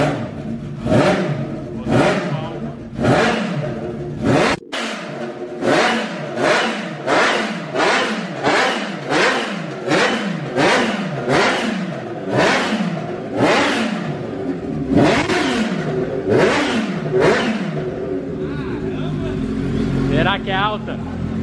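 A Kawasaki H2 motorcycle with a modified engine is revved hard over and over, roughly a dozen sharp rising-and-falling blips in steady rhythm, loud and close, ending in a lower idle with a whine.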